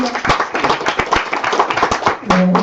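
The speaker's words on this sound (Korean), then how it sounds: "다시 한번 박수 부탁드리겠습니다" Audience at a year-end economics seminar applauding: a dense burst of hand clapping, loud and close, with a brief voice near the end.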